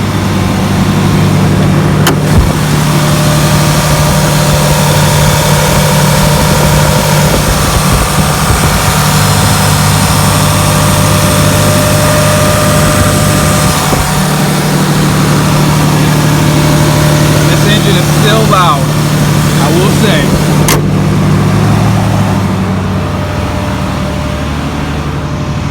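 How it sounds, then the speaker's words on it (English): A 2019 RAM 3500 dually's heavy diesel engine idles steadily at raised revs, heard from the front, a constant low rumble with a droning hum, close by and continuous throughout. "And here's high idle up front."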